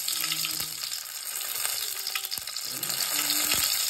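Mustard seeds and curry leaves sizzling in hot oil in a pan, a steady crackling fry with scattered pops throughout, close and continuous, with faint low voices in the background.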